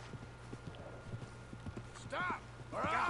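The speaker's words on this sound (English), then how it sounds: "Befriend the horse before you rob it." Horse hooves clip-clopping at a steady walking pace in Red Dead Redemption II, soft and fairly close, while a voice speaks over the end.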